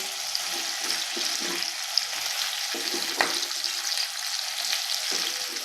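Pumpkin pieces go into a pan of mixed vegetables, among them snake gourd, ridge gourd and bean pods, frying over a low flame. A continuous close sizzle carries light stirring scrapes and a couple of small clicks.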